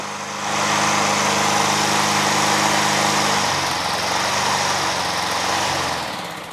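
A Honda Harmony II HRT216 push lawn mower engine runs steadily near the microphone, a loud continuous buzzing drone whose pitch drops partway through before settling, with no talking.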